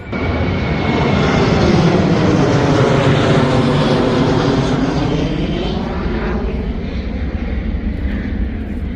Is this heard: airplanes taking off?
yes